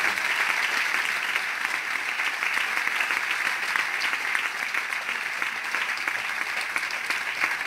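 Steady, even applause fills a farewell event for Santander's mayor, a dense crowd clapping continuously at moderate loudness throughout, with no voices rising above it.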